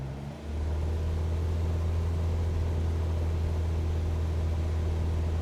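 A light aircraft engine in Microsoft Flight Simulator 2024 throttles up to 2,400 RPM, settling into a loud, steady low drone with a strong humming tone that holds evenly after a brief dip at the start.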